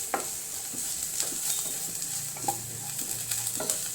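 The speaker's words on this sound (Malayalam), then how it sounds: "കരിഞ്ഞു പോകാണ്ടൊന്ന് ഇളക്കി കൊടുക്കാം." Spice powders such as fennel powder fry in a pan while being stirred, giving a steady sizzle with repeated scraping strokes close up.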